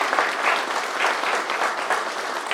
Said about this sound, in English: but that calls for a round of applause